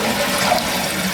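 A toilet flushing, a short loud rushing swirl of water heard up close.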